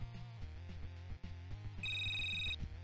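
A telephone rings in the Retro City Rampage video game, a bright electronic tone standing out for under a second over a looping chiptune music bed, with no talking.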